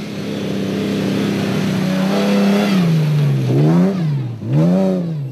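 The Rubicon Racing Ford Ranger off-road race truck, running in the Premier SP class at the Adenco 400 off-road race, revs its engine loudly and close by, holding a steady drone before rising and falling through several sharp revs.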